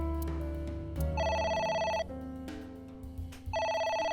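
A telephone rings in the video game AI: The Somnium Files, sounding twice as loud, bright electronic ring bursts separated by a pause, set over a steady musical background with no one talking.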